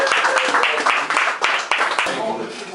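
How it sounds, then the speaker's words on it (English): Audience at a Paris literary reading night applauding steadily, a dense patter of many hands with some voices mixed in, fairly close and loud, fading slightly toward the end. "let's give a big round of applause for the last week we've been here"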